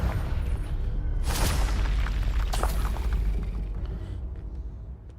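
A deep, rumbling explosion from the Confringo spell in Hogwarts Legacy, a loud boom with crackling bursts layered on top that slowly fades over several seconds.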